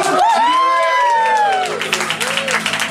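Small café audience applauding at a live band show as the PA engineer walks on, soft scattered clapping rising under a speaking voice and a sliding musical tone, then continuing faintly.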